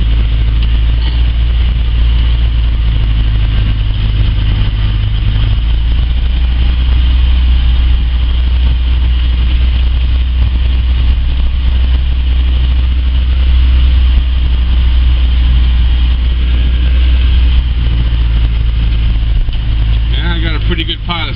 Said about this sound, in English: Pretty good pile of snow I'm pushing in the front here.